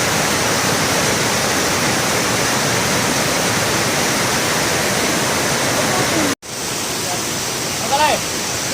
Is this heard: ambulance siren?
no